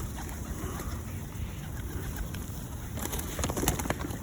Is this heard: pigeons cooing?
yes